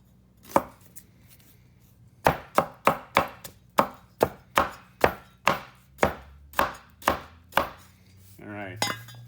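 Fresh ginger chopped with a knife on a board: one isolated strike, a pause, then about fifteen crisp, evenly spaced chops in a steady rhythm, followed by a brief rustling scrape at the end.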